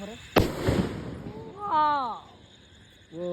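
A single sharp firecracker bang rings out, followed by voices talking and calling out nearby.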